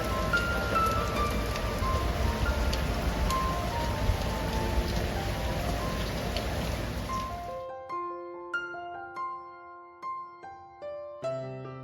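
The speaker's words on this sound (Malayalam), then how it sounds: "താഴേക്ക് വന്നപ്പോൾ കായലിലെ മഴയ്ക്ക് കുറച്ചുകൂടി സൗന്ദര്യമുള്ളതായിട്ട് തോന്നുന്നു" Rain falling on the Alappuzha backwaters in Kerala: a dense, steady patter and hiss for about seven seconds, then it cuts off abruptly and gentle plucked music follows.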